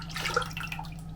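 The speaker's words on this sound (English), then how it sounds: "I'm just going to pour the rest of this cream milk mixture into" A cream and milk mixture is poured into a pan, producing a brief, close, wet trickling with light splashy drips, quiet and without speech.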